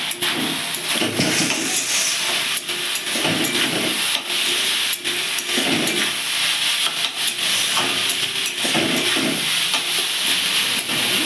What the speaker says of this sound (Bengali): এর মধ্যে আমি পেঁয়াজ লঙ্কাটাও দিয়ে দেবো, তাহলে পেঁয়াজটা ওর সঙ্গে ভাজা ভাজা হয়ে যাবে